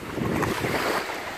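Sea waves wash onto a beach in a steady broadband roar, with wind buffeting the microphone throughout and no voices.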